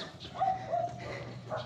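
Dogs on a morning walk through a neighborhood give a couple of short, moderate barks and whines, a few seconds of scattered calls at middle distance.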